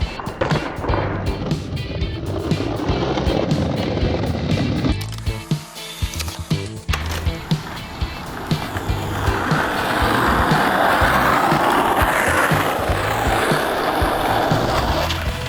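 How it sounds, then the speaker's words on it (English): Skateboard rolling loudly on pavement during an ollie attempt, rough wheel rumble with a burst of clacks and scrapes in the middle, then steady rolling noise continuing close by, no talk. "attempt number 1, landing an ollie"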